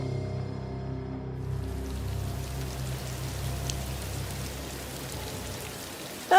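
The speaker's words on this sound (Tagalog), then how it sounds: "Malakas ang ulan." Heavy rain pouring during a storm, a steady broad hiss of falling water that holds for several seconds after a low droning hum fades out early, ending in a brief louder burst.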